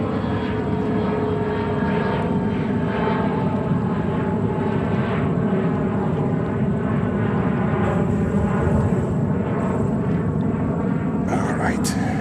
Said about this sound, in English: Now we have Egypt Air taking off. 777-300 service to Cairo.